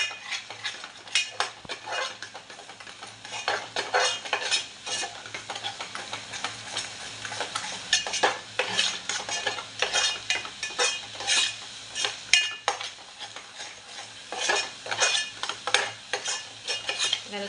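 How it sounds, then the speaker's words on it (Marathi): Malvani masala is stirred and fried in a pan, with repeated scraping strokes of a utensil against metal over a soft background sizzle, close and rhythmic throughout. "व्यवस्थित मसाल्यामध्ये परतवूया."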